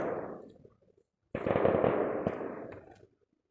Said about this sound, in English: Where's the fireworks going off?